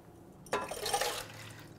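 Ice water pours into a warm rhubarb ginger syrup in one short splash of under a second, faint and close, followed by quiet.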